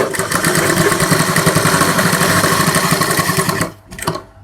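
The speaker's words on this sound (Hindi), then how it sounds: "इसके ऊपर इस तरह से सिलाई लगाना है" Sewing machine stitching fabric for puff sleeves on a suit, a loud continuous rapid mechanical whirr close by that stops abruptly near the end, followed by a brief softer burst.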